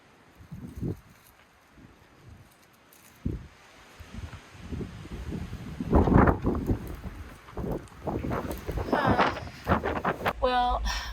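Strong gusty wind blows outdoors beside a van, buffeting the microphone with loud, uneven roaring bursts that swell and fade over several seconds, with brief rustling and handling knocks near the end.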